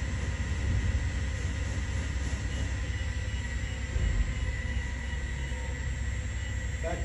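A TRAK SWI DPMV5 CNC vertical milling machine from 2005, updated in 2015, runs its spindle at about 1,500 RPM, giving a steady, continuous machine hum and whir with no talking.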